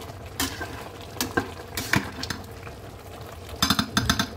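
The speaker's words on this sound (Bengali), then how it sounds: "লবণ দিয়ে দিয়েছি, একটু নেড়ে দিই।" Khichuri with salt stirred in a rice cooker, with repeated scraping and knocking of a spoon against the pot in irregular bursts over a low bubbling background.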